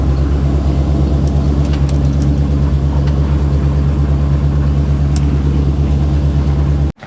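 The engine of a 1955 Chevy Nomad gasser rumbles loud and close, holding a steady low drone with a few faint clanks on top, then cuts off abruptly near the end.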